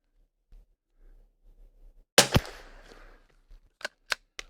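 A Kimber .22LR rifle firing budget ammunition outdoors: one sharp crack followed by a short decaying tail, then a few smaller snapping shots near the end, with faint background noises before.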